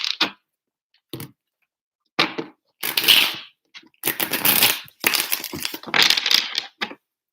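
Cards being shuffled in several separate bursts of crisp riffling and slapping, close to the microphone, with short silent pauses between them.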